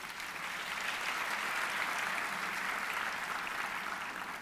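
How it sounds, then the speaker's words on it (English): Sustained audience applause at a town hall on voting rights, steady and dense throughout, moderately distant with no voices standing out. "So get them one more round of applause, please."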